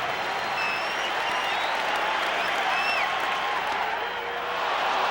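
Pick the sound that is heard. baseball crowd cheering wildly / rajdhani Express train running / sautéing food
baseball crowd cheering wildly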